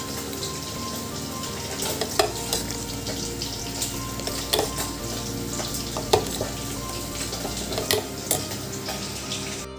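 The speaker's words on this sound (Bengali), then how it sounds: "কাতলা মাছের মাথা, এটা মাথাগুলো আমি কিন্তু ফ্রাই করে নিচ্ছি ভালোভাবে" Katla fish heads fry in a pan, a continuous close sizzle with scattered sharp pops and spatters, plus occasional stirring clatter and faint running water, no talk.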